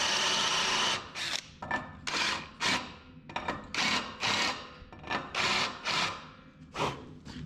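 A handheld power tool cuts a taper into the lug nut seat of a wheel stud on an LS-swapped Chevy S-10's 8.8 rear axle, running in repeated short grinding bursts with brief pauses between them, close and loud, with no voices.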